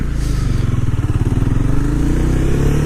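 A motorcycle engine thrumming close and steady through a gear shift, with a low pulsing idle-like rumble and slight pitch changes as the gear changes.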